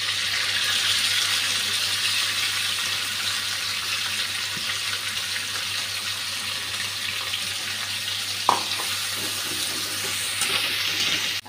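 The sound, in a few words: bay leaves and onion frying in a pan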